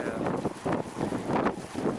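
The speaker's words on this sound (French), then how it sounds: "il y a un vent pas possible" Strong, gusty wind buffets the microphone on a cold, damp mountain summit, coming in loud irregular surges and lulls over a couple of seconds, with no voices.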